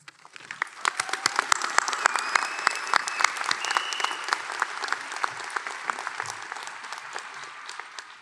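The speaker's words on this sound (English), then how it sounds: "So join me in giving a round of applause to all the tireless efforts to our" Commencement audience at a pharmacy college ceremony breaks into sustained applause, many hands clapping densely for several seconds, swelling then slowly thinning toward the end.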